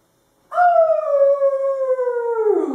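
Voices in a kids' yoga class imitate a dingo howl: after a moment of silence, one long loud sustained howl begins abruptly and slowly falls in pitch, close by and alone.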